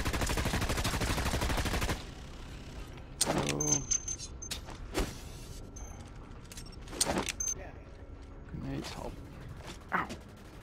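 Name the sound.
gunfire from an enemy's gun in the video game Dust 514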